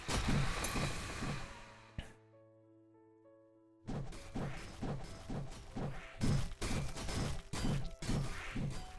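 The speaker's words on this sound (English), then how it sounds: "And another shattering stone." Heavy shattering stone skill impacts in Last Epoch land as repeated hard thunks and crunching smashes in a rapid rhythm, loud and close, with a short near-silent pause with faint tones before the blows resume.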